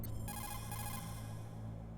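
An in-game phone call rings in Metal Gear Solid, a steady electronic ringtone with a repeating warble. It holds at an even level for the whole two seconds, and there is no talk over it.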